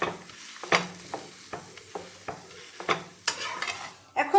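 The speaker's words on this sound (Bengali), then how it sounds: "এখন দুপাশই আমি খুব ভালো মতন চেপে চেপে ভেজে নেব।" An aloo paratha fries in oil in a pan with a steady low sizzle, broken by repeated scraping and pressing knocks from a spatula, all close and without speech.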